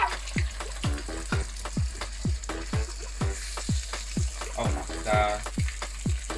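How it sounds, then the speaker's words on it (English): Pastelitos frying in hot oil give a steady sizzle, with repeated sharp scrapes or taps of a utensil keeping a regular rhythm close by, and brief speech from a person cooking. "y'all wanna let that fry right there"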